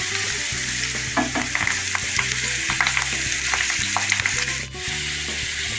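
Curry leaves fry in hot oil in a pan for a Bengali chicken liver masala, with a continuous close sizzle broken by stirring knocks and scrapes and a soft tonal hum underneath, without speech.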